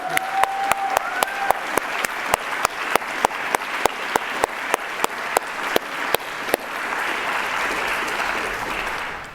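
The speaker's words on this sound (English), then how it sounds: "I just want to give everyone a round of applause for that incredible performance" Applause after a music performance at a cultural diplomacy event, with sharp, regularly spaced claps in a steady beat for about six seconds, then easing into a softer, even wash of clapping.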